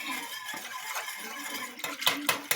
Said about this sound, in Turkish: Evet arkadaşlar karıştırıyoruz.